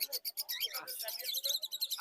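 Caged birds chirp and tweet at a busy bird market in Fatullah, Bangladesh, with rapid overlapping high calls close by and faint voices underneath.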